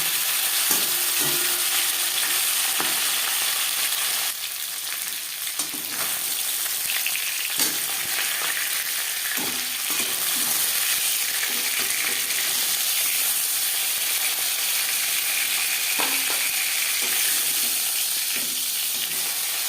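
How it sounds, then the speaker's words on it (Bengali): Pieces of rohu fish fry in oil in a kadai, producing a loud, continuous hissing sizzle throughout with occasional spatters and faint clinks nearby. "একটা সাইড ভাজা হয়ে গেলে অপর সাইডটা উল্টে দেবে"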